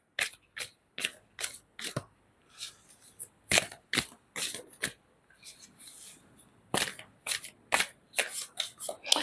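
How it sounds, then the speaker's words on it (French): Oracle cards shuffled and drawn in quick bursts of crisp riffling and flicking, close and fairly loud, with brief pauses between handfuls. "J'ai envie de vous tirer une carte des messages de lumière."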